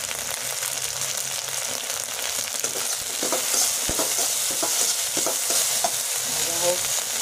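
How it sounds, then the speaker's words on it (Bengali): Okra frying in a pan with cumin, green chilli, onion, turmeric and salt, a continuous close sizzle broken by repeated scraping and clattering stirring strokes, louder in the second half. "জিরে, কাঁচা লঙ্কা, পেঁয়াজ দিয়ে ফোড়ন দিয়ে তারপরে ভেন্ডিগুলো দিয়েছি"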